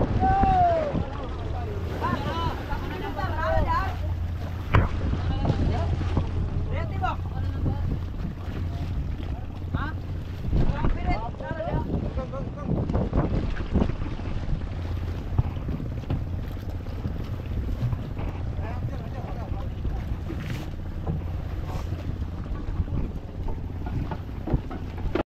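Small fishing boat pounding through ocean swells, with steady hull thumps, sloshing water and wind rush running throughout while people talk over it.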